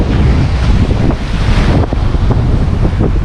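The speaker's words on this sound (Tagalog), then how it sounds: "Nakaabot na kami dito sa sobrang lakas ng hangin." Very strong wind at sea off a fishing boat, a loud, steady roar of buffeting wind against the microphone mixed with surf and rushing water, with no voices.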